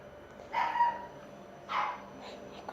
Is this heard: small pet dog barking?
yes